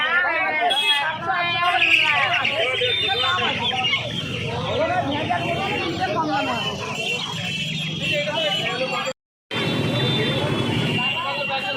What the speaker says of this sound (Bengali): এই খাঁচাটার মধ্যে প্রচুর টার্কি মুরগি রয়েছে দেখতে পাচ্ছ